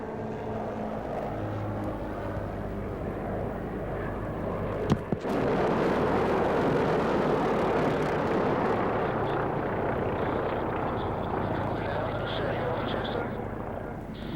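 A T-28C Trojan warbird flying at the Warbirds Over Wanaka air show in New Zealand, a sustained loud propeller-engine drone with a sharp bang near the middle, then a continued steady roar, under a voice speaking.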